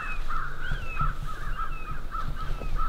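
Several crows caw repeatedly during a crow hunt, harsh calls recurring in a steady series at mid distance, with a faint higher whistle-like call drifting in and light rustling underneath; no talking.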